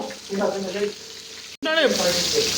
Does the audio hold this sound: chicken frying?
yes